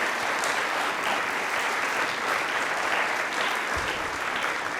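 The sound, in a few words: audience applause for the Australian cricket team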